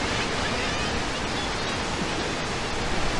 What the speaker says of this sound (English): let's have a listen to an example of the common murre nesting soundscape at the sea cliffs